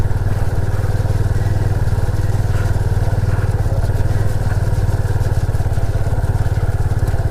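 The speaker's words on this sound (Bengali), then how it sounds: "এইরকম জায়গা দিয়ে এখন বাইক চালাচ্ছি।" A motorcycle rides across a grassy field, its engine thumping steadily and loudly at close range with a constant low pulse and faint rattles.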